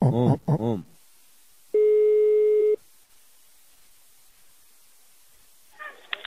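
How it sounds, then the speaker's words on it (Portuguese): A single steady telephone ringing tone sounds for about a second as a call is placed, alone and clear, after a burst of a voice at the start, with faint clicks and noise at the end. "E agora eu vou ligar pra Gilda."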